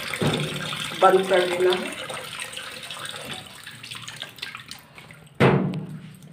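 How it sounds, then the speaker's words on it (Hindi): Water pours into a washing machine drum during a blanket wash, a steady rushing fill that gives way to a splashing burst near the end, heard beneath a person speaking. "ये देखिए मशीन में पानी भर चुका है"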